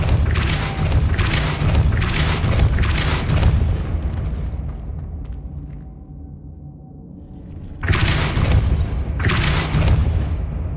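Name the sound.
Depulso spell blast in Hogwarts Legacy video game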